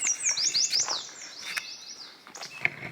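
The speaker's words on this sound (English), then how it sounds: "birds have been my companions. They've been quite noisy." Songbirds at Lac qui Parle state park sing close by in rapid, bright chirps and sweeping whistled trills, a busy burst of calls that thins into a few scattered notes toward the end.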